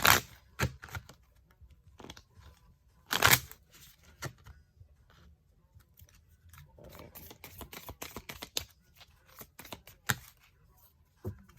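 Oracle cards handled and shuffled close by in a quiet room, with sparse sharp snaps and slaps, then a denser run of quick papery riffles and taps, with no one talking.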